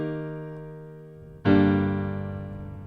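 A soft piano chord rings and fades, then a fuller, louder chord is struck and sustains, with no talking.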